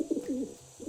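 A pigeon coos in a few soft, rounded, throaty pulses, close and fairly quiet, with nothing else heard.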